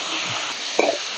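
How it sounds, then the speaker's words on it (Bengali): Chicken pieces fry in a kadai for homemade butter chicken, giving a steady, even sizzle with a couple of soft stirring clinks near the end. "আমি এখানে চিকেনটা ভেজে নিচ্ছি"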